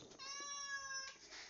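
A domestic cat gives a single clear, drawn-out meow, close and fairly quiet, lasting about a second in a calm room.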